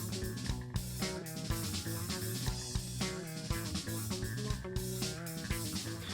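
Electric guitar with effects playing a lick at full speed, in a dense, busy passage of quick notes and bends, fairly quiet and continuous throughout.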